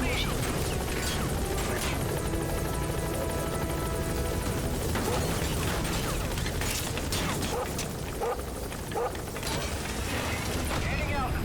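Pequod helicopter from Metal Gear Solid, a continuous dense rotor and engine clatter sustained throughout, with scattered mechanical clicks and pops layered over it.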